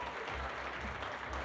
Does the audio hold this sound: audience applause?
yes